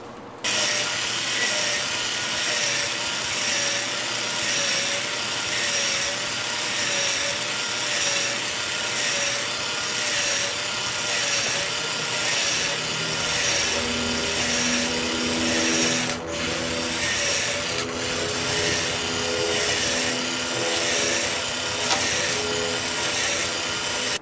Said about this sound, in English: So I'll keep on drilling now.